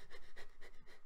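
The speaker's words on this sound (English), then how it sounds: "the way Jerry's panting" A cartoon mouse in Tom and Jerry pants quickly and rhythmically, with about five short, airy, evenly spaced breaths that are faint and alone.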